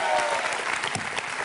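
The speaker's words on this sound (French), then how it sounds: "Bah, et applaudissements alors." An audience claps together in a brief burst of steady, dense applause, fairly close and filling the whole moment.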